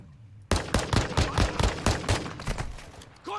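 A rapid burst of automatic gunfire erupts in the video game Call of Duty DMZ, close and loud, with a dozen or so sharp shots in quick rhythm after a brief quiet start.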